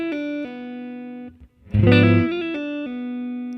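Electric guitar plays an RnB skate riff through effects, sustained chords with quick slides and a brighter strummed burst in the middle, clean and close with no voice.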